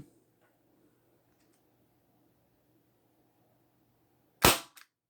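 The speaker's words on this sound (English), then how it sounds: "All right, got it loaded up with 20 gram BBs already. So here we go. First shot." A single sharp, loud snap from an airsoft Ruger Mk 2 pistol firing a 0.20 g BB after near silence, followed by a faint second click.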